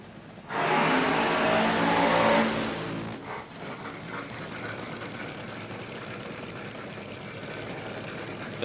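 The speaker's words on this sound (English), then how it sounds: "Yeah, it's definitely going to be the fueler. It started up." Top fuel dragster engine at Willowbank Raceway, Queensland, firing up into a loud, harsh roar for about two seconds before dropping to a steady lower rumble heard from a distance.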